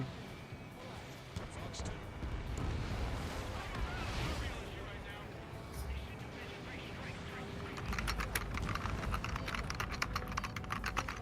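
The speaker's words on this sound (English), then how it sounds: "I hear that you're typing again." Fast, light keyboard typing clatters quietly and steadily beneath conversation during a live gaming stream of Ace Combat 7, with the keystrokes growing denser toward the end.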